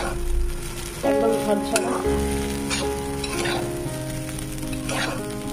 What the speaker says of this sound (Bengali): চালটা সুন্দর করে ভাজা ভাজা হয়ে গেছে